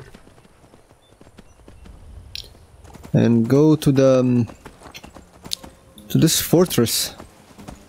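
Soft hoof clip-clops of a horse in the video game Skyrim patter faintly and irregularly in the background while someone talks over them in two bursts.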